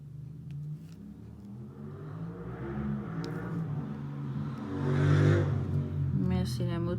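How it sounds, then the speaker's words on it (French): A motorcycle on a street on a Friday evening revs and roars past, its engine rumble building to a loud peak near the end before fading, with faint voices in the background. "Merci la moto, c'était gentil."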